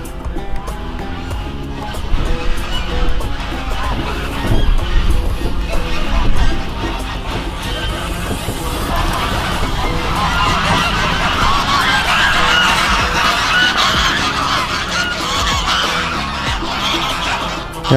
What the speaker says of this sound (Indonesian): bebek-bebek sedang ribut